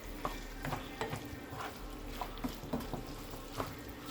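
Ground beef taco filling, finished with a little ketchup, is stirred in a frying pan, with soft spoon scrapes and clicks recurring steadily over a low sizzle.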